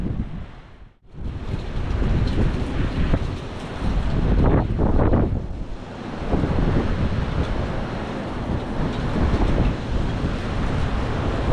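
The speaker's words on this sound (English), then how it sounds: "the wind has picked up again, and it is strong once again" Strong gusting wind roars during a windstorm in the Ohio Valley, buffeting the microphone loudly and continuously, with a brief lull near the start and surging gusts throughout; no voices.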